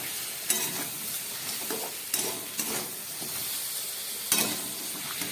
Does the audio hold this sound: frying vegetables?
yes